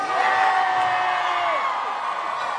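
A packed arena crowd at a concert at The Forum in 2014 screams one word back at the singer, a loud sustained roar in unison that fades slightly at the end.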